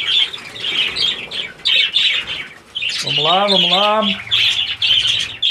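Female parakeets let into the males' aviary fill the space with a constant, loud chatter of high chirps and squawks plus some fluttering wings, while someone speaks briefly over the birds.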